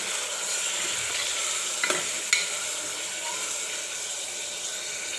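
Mutton pieces dropped into frying masala for a village-style mutton curry and stirred, a continuous sizzle with a couple of sharp scraping clinks from the spoon against the pan.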